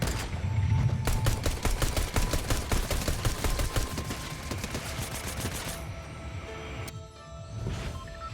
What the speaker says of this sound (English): I shoot you point blank